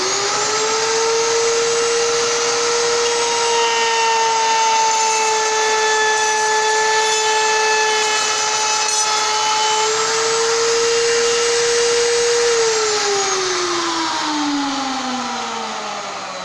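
A router table making a cutting pass through wood: a loud, steady high-pitched motor whine that holds for about twelve seconds, then drops in pitch as the cut finishes and the motor winds down.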